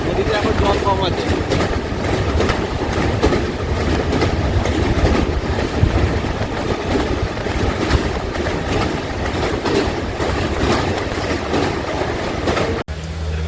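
Bhubaneswar–Howrah Jan Shatabdi Express train running, a steady loud rumble of wheels and carriage noise continuing throughout, with voices talking faintly beneath it.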